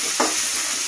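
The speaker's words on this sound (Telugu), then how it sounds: "ఈ విధంగా తొందరగా ఆయిల్లో వేగిపోతుందన్నమాట" Sliced onions frying in hot oil with a pinch of salt added, for an eggplant and okra curry, giving a steady close sizzle with one brief stirring scrape near the start.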